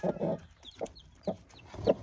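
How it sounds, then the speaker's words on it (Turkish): A speckled hen with chicks beneath her clucks in short, separate bursts in a coop, fairly close, with soft higher chirps between them and no talking. "burada bir tavuğumuz var."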